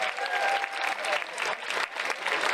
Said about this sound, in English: An applause and a welcome back for Michael Saunders.